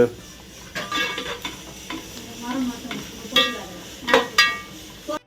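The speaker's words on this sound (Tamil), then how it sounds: "இங்க பாருங்க வெங்காயம் நல்லா வதங்கிடுச்சா" Onions sautéing in a pan for mutton biryani, a close steady sizzle with repeated spoon scrapes and metallic clinks against the pan, no talking.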